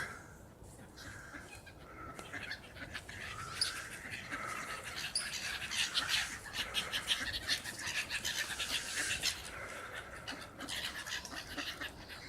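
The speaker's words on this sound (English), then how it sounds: "There's obviously lots of seagulls and somebody's just fed them bread or something, so they're having a big feeding frenzy" Outdoor chorus of seagulls in a feeding frenzy over bread at a UK lake, squawking and calling over one another, with scattered moorhen and other bird cries near and far and steady background ambience throughout.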